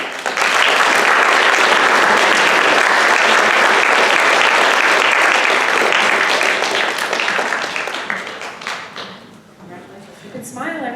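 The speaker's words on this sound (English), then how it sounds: "another round of applause for our candidates" A room full of people at an NHS ceremony gives a loud, sustained round of applause for the candidates. Dense clapping holds steady for about eight seconds, then thins and fades as voices begin to come through.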